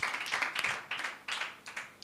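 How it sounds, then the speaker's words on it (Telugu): Children at a Sunday school Bible quiz clap together in quick, rhythmic bursts. Several short rounds of close applause are separated by brief gaps, and no one speaks. "క్లాప్స్."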